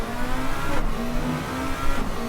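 A race car engine in the racing game Rennsport drones loudly and steadily, revving with slight pitch shifts as it runs at speed.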